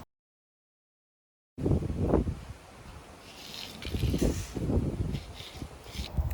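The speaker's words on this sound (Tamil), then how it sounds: "பார்த்தா நல்லா காத்தடிச்சிட்டு இருந்தது" Strong wind blowing outdoors before rain, gusting in loud rough bursts against the microphone after a moment of silence, with no talk.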